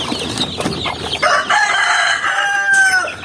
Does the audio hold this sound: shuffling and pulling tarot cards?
no